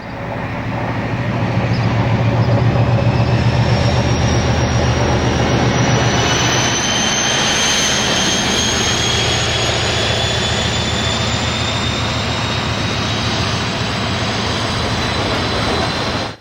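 Loud, continuous roar of a British Rail diesel locomotive's Ruston Paxman engine with a deep throbbing bass and a rising high whine, close and sustained throughout.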